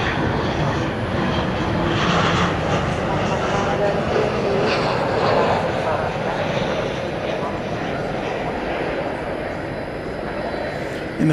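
Volaris Airbus A321neo jet arriving into view at night at DFW Airport, heard as a sustained loud roar of engine noise that stays strong across the whole stretch, with talk under it.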